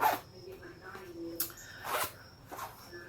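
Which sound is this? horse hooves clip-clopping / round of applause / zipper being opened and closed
zipper being opened and closed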